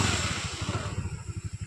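A TVS Wego scooter idling after a self start, its engine putting out a steady low, pulsing throb that stays close and fairly quiet, with no talk over it.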